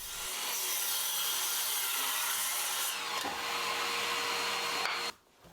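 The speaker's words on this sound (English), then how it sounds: "I'm going to get out my battery powered miter saw and get them cut to length." A battery-powered miter saw cutting wood to length for vise jaws in a workshop, a loud continuous high whine through the cut that drops out abruptly as the motor stops at the end.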